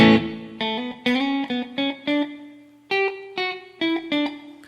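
Electric guitar notes are picked one at a time through a reverb set to a long decay, each note ringing clearly while the tail trails off between plucks. The tone is clean and up close.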